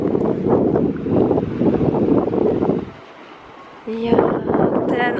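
Gusty wind buffets the microphone at the seaside with a rushing roar of sea surf behind it, dropping briefly before surging again as a voice speaks.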